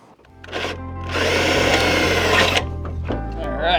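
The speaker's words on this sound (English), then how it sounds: "we're gonna go ahead and drill a hole" A power drill bores through a Toyota AE86 Levin body panel during a front-end conversion, a loud close whirring grind lasting about two seconds, bracketed by the motor spinning up and winding down.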